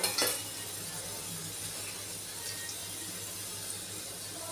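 Three to four large spoons of oil hit a hot pan for a spicy village-style mutton curry, giving a steady, bright sizzle with faint clinks of stirring as roasted masala paste is worked in.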